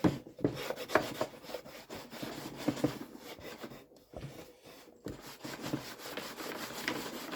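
A cloth rubs back and forth over a surface, wiping off excess wax in continuous close scrubbing strokes with brief pauses, quiet and with no talking.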